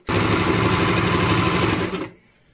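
An Usha Janome Stitch Magic sewing machine runs at a set stitch length, a loud, close, fast mechanical stitching rattle that continues steadily for about two seconds, then stops abruptly.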